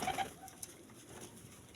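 A domestic pigeon, the oldest of a keeper's flock, gives a brief soft coo at the start, then fades into quiet outdoor background.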